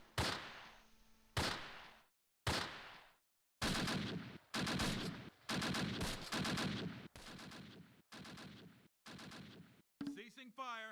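Bursts of gunfire and machine-gun fire ring out in the WWII strategy game Close Combat Last Stand Arnhem, with loud repeated volleys split by short silences and a garbled radio-like voice at the end.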